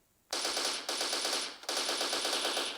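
Three long, loud bursts of rapid automatic machine gun fire from the video game Special Force 2, each rattling continuously with only brief gaps between them and no voices.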